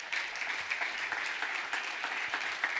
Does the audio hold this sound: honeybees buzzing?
no